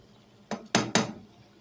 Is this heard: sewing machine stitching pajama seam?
no